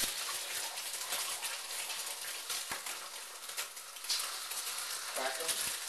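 Two eggs hitting hot oil in a wok, a steady crackling sizzle with scattered utensil scrapes and small clinks, moderately quiet, with a voice talking over part of it.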